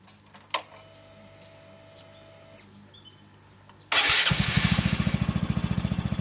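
A Honda Grom fitted with a high-compression piston and high cam, running with a knocking noise: after a quiet stretch with one brief knock, the engine bursts to life loudly and settles into a fast, rhythmic pulsing idle.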